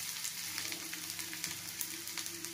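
Chopped carrot hits hot oil in a scorched kadhai for manchow soup, giving a steady, close crackling sizzle with no voices over it.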